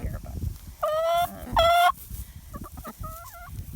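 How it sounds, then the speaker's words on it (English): Backyard chickens cluck and squawk around someone's feet in the cold, stirred up by scattered wheat; two loud, drawn-out squawks stand out, followed by softer clucks and short calls. "something else to know about chickens is they can be very loud"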